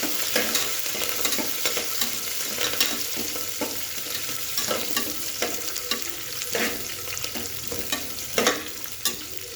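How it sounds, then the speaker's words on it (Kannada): Byadagi dried red chillies fry and sizzle in hot oil for lemon rice, a steady crackling sizzle with occasional stirring scrapes, close and continuous with no talk. "ಬ್ಯಾಡಗಿ ಮೆಣಸಿನ್ಕಾಯಿ ಹಾಕಿ ಮಿಕ್ಸ್ ಮಾಡ್ಕೊಳ್ಳಿ. ಎಲ್ಲ ಫ್ರೈ ಮಾಡಿ."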